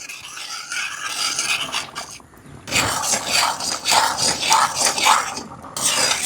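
Thick maida flour paste stirred in a pot over a fire, giving close scraping and rasping strokes in uneven bursts with brief pauses between.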